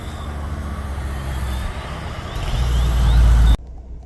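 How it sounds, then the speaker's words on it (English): A fire department truck pulls up to a burning trailer, its heavy engine rumble growing louder and closer before cutting off abruptly, with faint chirping tones above the road noise. "Another fire department truck."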